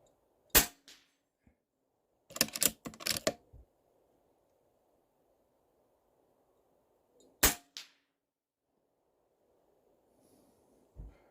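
A Stoeger XM1 Scout PCP air rifle fires pellets outdoors, giving sharp isolated cracks, one early and another near the end, plus a quick cluster of clicks and knocks between them, close against near silence.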